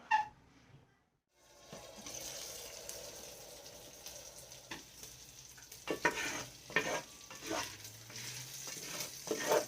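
Bacon fries in a Dutch oven or stock pot for loaded potato soup, a steady low sizzle with occasional louder crackles and stirring scrapes toward the end, close and alone.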